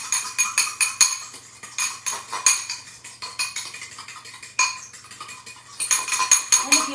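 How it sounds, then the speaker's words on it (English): A spoon clinks and scrapes against a dish while stirring mustard and brown sugar into a topping, with brisk, irregular taps close by. "So I'm going to stir this up."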